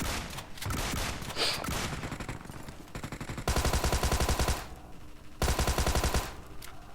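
Automatic gunfire from a Tommy gun and a DBS shotgun in the BGMI battle royale game, rattling in rapid loud bursts with sharper repeated volleys around the middle and end, no talking.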